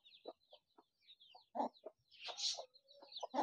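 Desi chickens and young chicks feeding on beetle larvae, giving soft scattered clucks and short chirps at close range, with a few louder calls standing out against a quiet background.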